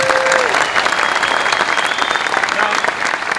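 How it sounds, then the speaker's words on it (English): A conference audience at the Reform UK Conference gives a round of applause, thick sustained clapping filling the hall at constant strength, with a faint tonal whistle briefly above it. "Please give them a round of applause."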